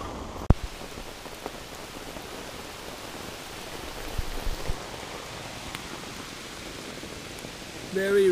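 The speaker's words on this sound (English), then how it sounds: "Yes, very rainy outside." Heavy rain drums steadily and densely on a canvas tent close by, a constant hiss with scattered louder drops, and no voices.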